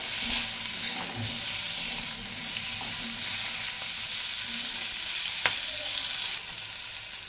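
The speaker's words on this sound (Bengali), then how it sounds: "তো শিমটাও একটু ভেজে নেব, খুব ভাজবো না, জাস্ট হালকা করে ভেজে নেব।" Flat beans (shim) fry lightly in an oil-filled pan for a Bengali mixed vegetable dish, giving a steady, even sizzle with faint stirring clicks and no talking.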